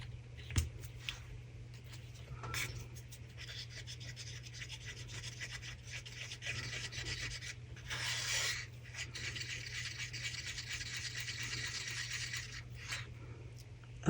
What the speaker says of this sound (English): Scraping all the powder off the sides of the cup.